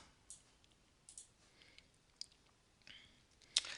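Faint, sparse computer mouse clicks, a handful of short sharp taps spaced irregularly in a quiet room, with the last click slightly louder.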